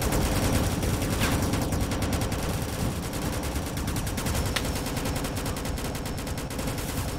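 Continuous dense gunfire from the Roblox game Rolling Thunder, a loud sustained barrage of rapid shots with no pauses, running the full length without any talking.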